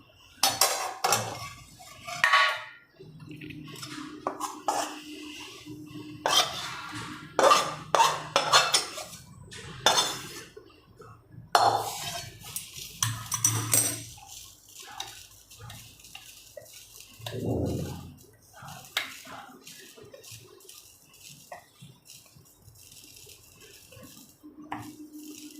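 Sukhdi, a Gujarati sweet, being spread into a ghee-greased dish, heard as repeated clinks, scrapes and knocks of a utensil against the metal plate in irregular bursts, with quieter pauses between.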